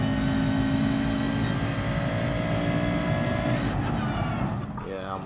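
In GT Sport, race car engines scream in a continuous high-pitched whine that shifts pitch at the end as the car changes speed, with someone talking over the engine noise.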